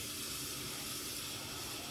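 Water pours from a tap onto dry beans in a pot for 15-bean soup, a steady hissing splash close by with no pause.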